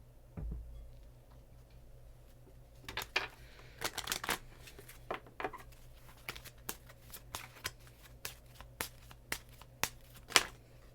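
Tarot cards are shuffled by hand in a quiet room, a series of soft, crisp riffling taps and flicks that come in short irregular bursts, close and fairly faint, with no talking.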